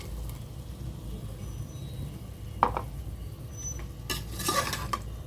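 Ground fennel, cinnamon and clove masala being stirred into frying mutton liver and potatoes in a pan, a soft background sizzle broken by a few clinks and scrapes of the spoon against the pan.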